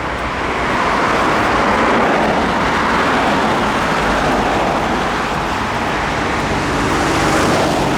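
Road traffic along an urban route in Plymouth: a loud, continuous wash of passing cars and heavier vehicles, dense and unbroken, with no distinct single passes and no voices.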